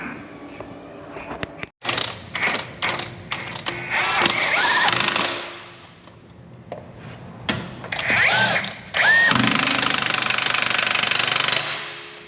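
A forklift engine running and working close by, with rattling mechanical clatter and knocking that rises and falls as the machine moves, brief squeaks and a loud sustained stretch near the end.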